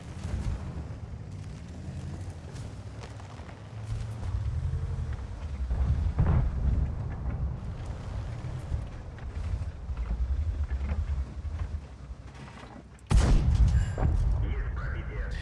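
A tank cannon in World of Tanks, on a T54 lightweight tank, fires with heavy booming blasts, a big one near the end, over a constant low engine rumble while someone talks intermittently.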